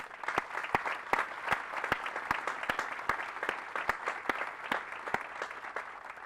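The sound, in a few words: applause for the band and artillery battery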